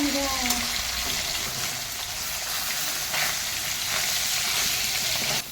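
Nados fish frying in hot oil, a steady loud sizzling hiss that continues without a break.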